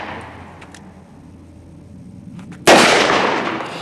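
A stainless .44 magnum revolver fires a single loud, sharp shot whose barrel fails, the blast bursting out abruptly after a stretch of quiet background hum and then decaying slowly.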